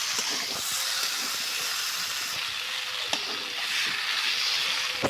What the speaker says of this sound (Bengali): সুন্দর করে মশলার সাথে আলুগুলা কষে নেওয়া হচ্ছে